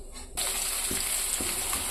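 Rohu fish frying in a wok, a sudden loud burst of sizzling that starts after a brief quiet moment and then holds steady, close up, with faint occasional pops.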